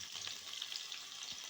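Onion and potato fry in oil in a cooking pot, giving a soft continuous sizzle with faint bubbling crackles, quiet and steady throughout.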